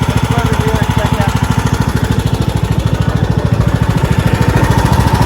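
A Craftsman T2600 lawn tractor engine runs with a steady, fast, loud chugging beat close by, the throb holding even throughout.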